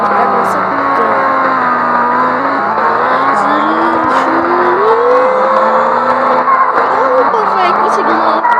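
Car driving at top speed in the mobile game Car Driving Simulator, a steady loud engine drone whose pitch climbs and shifts through gear changes for several seconds, with a voice talking over it.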